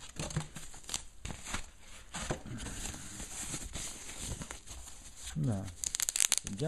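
A protective bag lined with foam crinkles and rustles around a Klarstein EH3BS LED video projector as it is unpacked. The handling noise is close and irregular, with a person talking over it.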